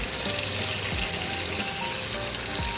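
Guyanese fish curry base of saigon cooking in a pot before the fish goes in, giving a steady, close sizzle and fry hiss with faint stirring clinks.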